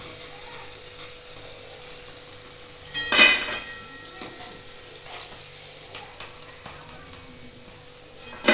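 Homemade tomato chips sizzle softly in hot oil as they are lifted out with a utensil, with a sharp scrape and clatter near the middle and scattered clinks against the pan, all close up, with no one talking.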